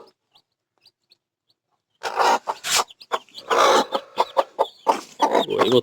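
Chickens cluck in a run of loud, close, irregular bursts that start after a near-silent opening of a few faint chirps.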